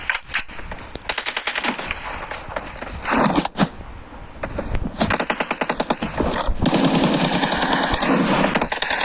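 Automatic gunfire in a team deathmatch shooter video game comes in rapid, loud bursts separated by brief pauses, then becomes a nearly continuous stream of shots toward the end.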